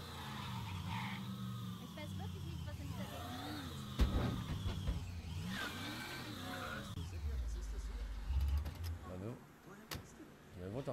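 A car engine in the Mafia III video game hums and revs steadily throughout, rising and falling with gear changes, with a sharper burst partway through, while someone talks over it.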